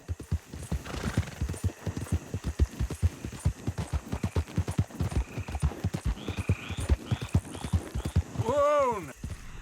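A horse gallops in Red Dead Redemption II, steady rhythmic hoofbeats pounding close and loud, ending in a sharp whinny.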